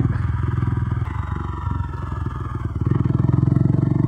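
Bajaj Dominar 250 BS6 motorcycle engine idling close by, a steady, loud low thrum with a brief dip and clatter midway before settling back into an even idle.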